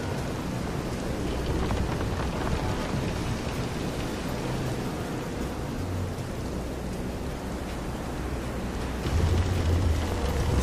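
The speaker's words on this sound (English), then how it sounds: "This is some storm." A storm at sea in Visions of Mana: rain hisses steadily and densely, thunder rumbles low beneath it, and a heavier surge of rain and wind swells near the end, with no voices.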